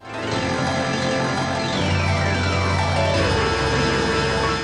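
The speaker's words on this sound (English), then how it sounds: "Black MIDI is a sequenced MIDI file that is so dense with notes that it literally appears" Black MIDI music: an extremely dense, loud wall of synthesized notes with sweeping pitch runs, a chaotic cacophony of countless overlapping tones played continuously.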